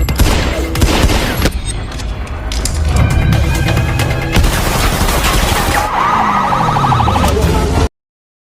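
In a film action scene an emergency alarm siren wails alongside heavy gunfire and loud crashes, a dense, chaotic mix that cuts off abruptly near the end.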